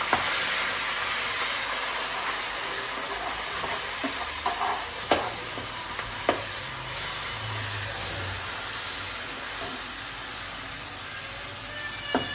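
Garlic and ginger paste frying in a hot pan, a steady sizzling hiss with a few soft stirring clicks and scrapes, close and continuous throughout with no talking.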